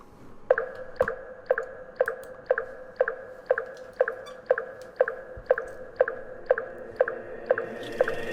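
The song opens on an evenly spaced, dripping percussive click that repeats about twice a second over a soft low bed, with no vocals.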